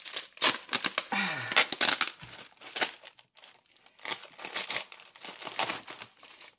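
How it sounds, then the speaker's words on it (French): Paper packaging crackles and crumples in bursts of dense, close crinkling while a parcel of art supplies including a jar of gesso is unwrapped, with short pauses between handfuls. "Désolé pour ce bruit de papier."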